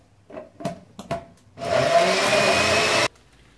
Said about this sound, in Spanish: aquí mismo voy a moler tantita sal de grano también para poderlo moler